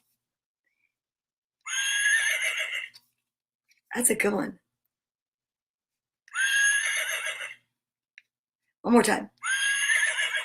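A person imitates a horse's neigh twice, each whinny a bright, wavering cry lasting about a second, alternating with short bursts of spoken voice in a quiet room.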